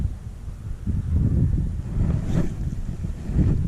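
Blustery wind buffets the microphone on a cold, rainy, cloudy spring day of fishing at 48 degrees, a steady low rumble with gusts swelling and easing throughout, no voices.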